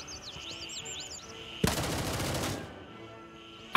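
Automatic gunfire from the shooter game Gray Zone Warfare rips out in one loud, dense burst lasting about a second, after high synthetic chirping tones, and a sharp shot cracks at the very end.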